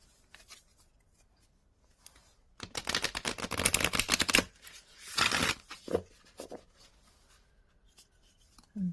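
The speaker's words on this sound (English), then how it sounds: "Let's shuffle." Seashell Oracle cards are shuffled in two bursts of rapid, close, crisp riffling, the first lasting almost two seconds and the second shorter, with a few soft taps and quiet handling between them.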